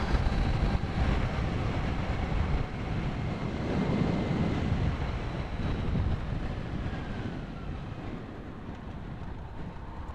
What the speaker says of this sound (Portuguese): muita ventaninha aqui